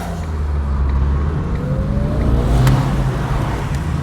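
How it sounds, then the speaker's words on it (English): Ford Ka on the move with steady, loud road and tyre roar inside the cabin, a low engine drone running continuously underneath throughout. "Loads of road noise, just like the Panda."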